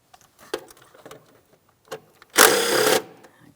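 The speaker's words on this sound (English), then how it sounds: "Let's go ahead and remove that mounting bolt." An electric ratchet loosens the 8mm throttle body mounting bolt on a 2007-2014 Ford Edge 3.5L V6, heard as a single close, loud whirring burst of about half a second after a few light clicks and handling sounds.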